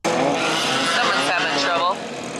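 Race cars at Willow Springs roar past on track, loud engine drone with shifting pitch as several cars pass close together, a voice speaking over the noise.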